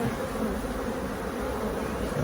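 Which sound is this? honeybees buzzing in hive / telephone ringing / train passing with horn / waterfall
honeybees buzzing in hive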